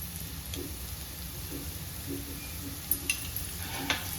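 Onions with ginger-garlic paste fry in a pan for an egg masala, a steady soft sizzle with a few sharp stirring clicks near the end, no voices.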